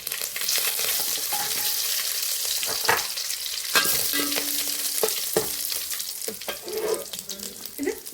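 Curry leaves and mustard seeds crackle and spit in hot oil in a pot for Kerala beef curry, a steady loud sizzle broken by sharp pops and spatters, with a faint voice now and then.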